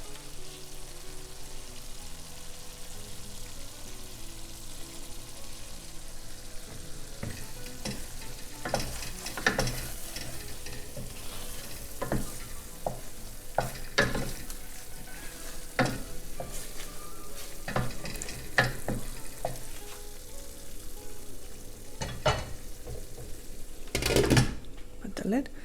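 Fish simmering in gravy in a pan gives a soft sizzle and bubbling, punctuated by scattered clinks and scrapes of a utensil, with a voice heard at times.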